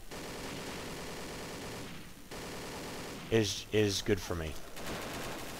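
Gunfire in the shooting game Mission Against Terror, bursts of rapid shots crackling over a steady game background, with a brief spoken comment layered in.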